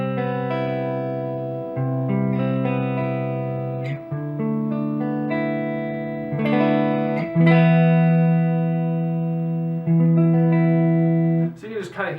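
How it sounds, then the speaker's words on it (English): Clean electric guitar notes and chords from the neck pickup, a Seymour Duncan Pearly Gates on a 1991 Les Paul, ring out with a bright, chimey tone, played slowly with sustained notes and a short strum at the end. "we'll go ahead and start on the neck pickup with some clean tones"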